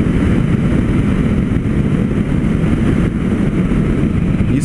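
Honda CB1000R motorcycle engine while riding, a loud, steady low rumble with wind roar that holds constant throughout, with no voices.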